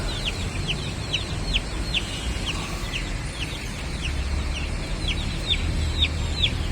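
A chicken with a crooked beak, heard among a flock of fowl: repeated short clucks and chirps scattered throughout over a constant outdoor background hum.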